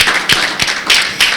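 Several loud, close hand claps in a quick steady rhythm at a women's business seminar, a short burst with no talking.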